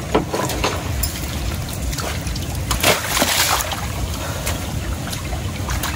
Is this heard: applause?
no